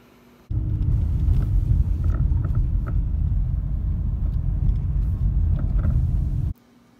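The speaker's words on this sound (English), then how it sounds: "there's still a rattle on the front end that hasn't been fixed" Inside a Chrysler 200, a steady low road rumble plays with faint intermittent rattles and knocks from the front-end steering shaft, starting and stopping abruptly.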